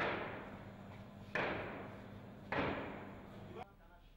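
Gunfire rings out during a terrorist attack in Ouagadougou, three sharp reports about a second apart, each trailing a long echoing decay.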